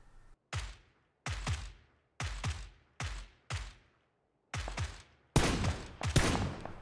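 Suppressed rifle fire in the PUBG video game on Xbox One X: six separate close shots with soft tails, evenly spaced and loud, the last two heavier and closer together.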